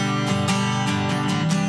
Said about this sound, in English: you hear how the pick just glides across the top so much easier?